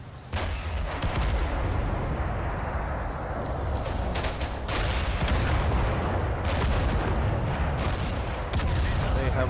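Artillery fire from a battle in the video game Total Conflict Resistance rumbles without a break for the whole stretch, a dense, loud wash of booms and gunfire with sharper shots cutting through now and then.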